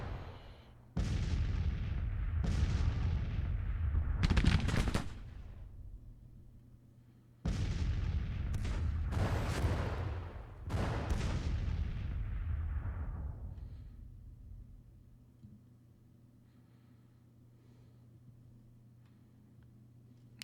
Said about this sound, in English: We are taking casualties because their artillery can fire on us.